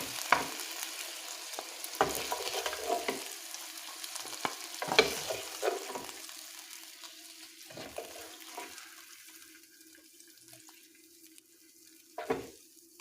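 Chicken thighs sizzle steadily in a pot while a utensil scrapes and clatters in occasional stirring strokes, fading toward a quieter hiss near the end.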